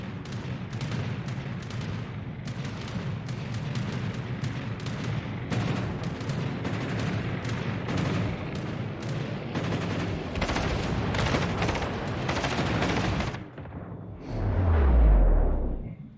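Naval gunfire in a long-range World of Warships battle between Fuso battleships: heavy shots and booms thud continuously and loudly, ending in a single deep rumbling blast that fades away.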